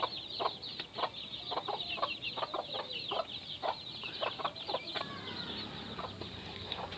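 Domestic hens with their chicks, heard as repeated soft clucks and chirps at a moderate distance over a faint steady background.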